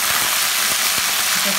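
Onions that have turned brown frying in a pan as garlic-ginger paste goes in, a steady close hiss and sizzle with a few soft stirring knocks underneath.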